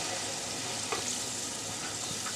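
Boiled dal poured into spices frying in a pan: a steady broadband sizzle with a faint brief splash or stir partway through.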